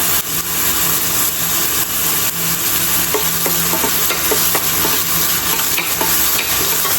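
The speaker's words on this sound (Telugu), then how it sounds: "కొద్దిగా ఆయిల్ వేసుకొని నూనెలో వాడతాను" Vegetables frying in a little oil in a home kitchen, a steady loud sizzle and crackle throughout with faint scraping as they are stirred.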